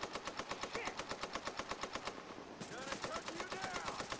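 Rapid automatic gunfire from The Division video game rattles in a steady rhythmic burst, loud and close, then continues with more shots after a brief shift in tone.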